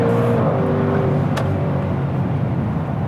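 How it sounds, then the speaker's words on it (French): A Maserati Levante Trofeo SUV with a 580-horsepower Ferrari-derived turbocharged engine and eight-speed ZF automatic accelerating hard, a loud steady engine drone with rising harmonics heard from inside the cabin. "c'est fou comme accélération"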